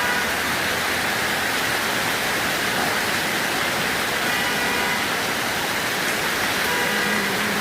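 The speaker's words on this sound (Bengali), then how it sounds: "এত পরিমাণ বৃষ্টি হচ্ছে আজকে, দেখেন অবস্থা।" Heavy rain pours down in a dense, steady roar during an afternoon downpour in the Gulshan–Banani area, with water rushing toward a drain; the sound is loud, constant and even throughout.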